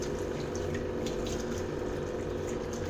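Water runs steadily from a sink tap during handwashing, a continuous close hiss and splash with no pauses and no talk.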